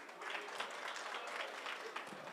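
An audience at a public security forum in Migori Town applauds, a steady, fairly distant wash of many hands clapping that holds at an even level throughout, with a faint murmur of voices underneath.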